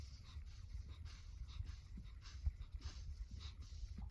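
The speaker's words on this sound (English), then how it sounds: "I'm just breathing out." Breath pushed out steadily during circular breathing practice, a soft, close, rhythmic panting with puffs of air and low breathy rumbles, fairly quiet.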